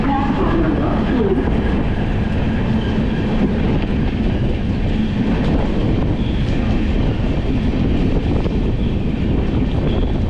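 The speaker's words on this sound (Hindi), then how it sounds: "Express is arriving on platform number 2." Loud, continuous rumble and clatter of an express train arriving at platform 2 of a railway station, close and sustained with wind buffeting the microphone throughout.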